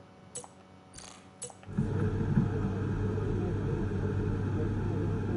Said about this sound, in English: Yeah, the engines are just really quiet